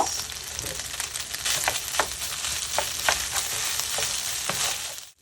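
Day-old cooked rice with onions frying in a pan, a steady close sizzle broken by repeated short scrapes and stirs, with no talking.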